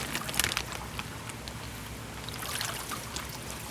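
A koi fish being returned to its water makes soft, close splashes and a steady trickle that run throughout, with brief brighter splashy bursts and no talking.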